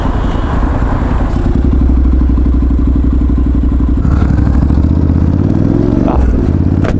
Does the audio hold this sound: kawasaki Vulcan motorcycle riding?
yes